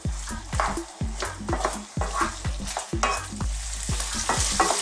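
Pork and sweet peppers frying over low to medium heat, a steady sizzle under regular, rhythmic scraping and stirring strokes of a utensil in the pan, close and clear, with no speech.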